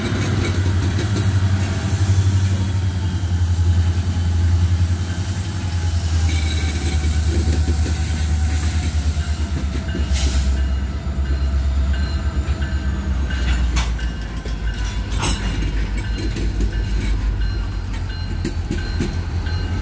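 Union Pacific GP38N and SD40N diesel locomotives pull a long freight train, a loud, steady low engine rumble with rolling railcar noise and a few clanks, close by and continuous.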